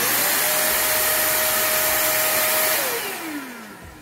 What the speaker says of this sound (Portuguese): esse aspirador de pó, ele tem 1300 de potência